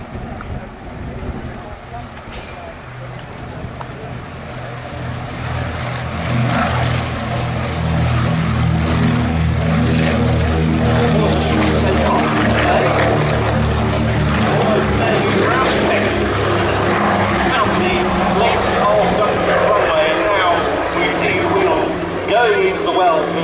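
A Consolidated PBY-5A Catalina flying boat, 'Miss Pick Up', takes off at the Duxford Air Festival, its twin propeller engines building from a distant drone to a loud, sustained roar, with a commentator's voice over the engines.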